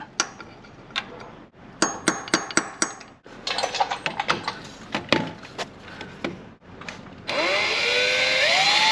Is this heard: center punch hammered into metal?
yes